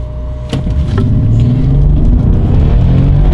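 A 2006 Bentley Continental GT accelerating hard on a wide open road, its engine note rising into a loud, steady, climbing drone that builds from a quieter start and continues to the end.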